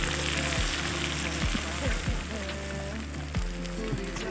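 Onions with turmeric fry in a pan as preparation for a meat dish at an outdoor feast, giving a steady crackling sizzle over a low rumble, with voices in the background and a few soft knocks.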